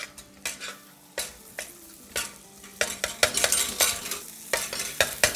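Ghee being stirred into a mixture in a pan for a Bakra Eid dish, with a spoon scraping and clinking in irregular strokes over a soft sizzle, close and without speech.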